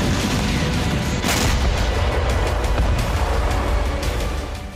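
Artillery shelling in the war in Ukraine, around Kherson and Sumi: loud, rumbling booms and sharp blasts that roll continuously for several seconds without any voices.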